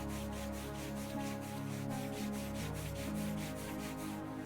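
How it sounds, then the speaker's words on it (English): Hands rub briskly up and down along both sides of the knees during a seated chair yoga joint routine, a steady rhythmic friction swish that repeats close by with no one talking. "bring the hands to either side of the knee and start to rub up and down, really creating friction and warmth"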